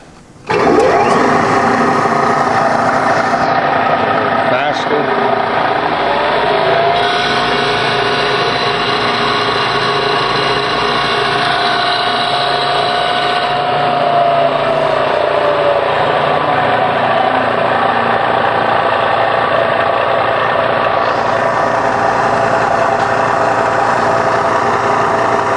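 A 1984 YCI Supermax Bridgeport-style vertical milling machine runs steadily with a continuous motor and spindle whine, a gliding tone shifting partway through, loud and close with no talking.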